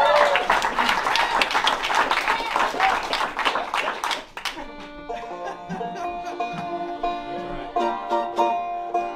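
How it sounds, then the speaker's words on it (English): An audience at a bluegrass and old-time music show claps loudly for about four seconds; the applause stops abruptly and gives way to quieter talk and plucked string notes. "Also, just a round of applause for Metz on the claw"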